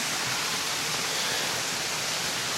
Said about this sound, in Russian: Водопадики.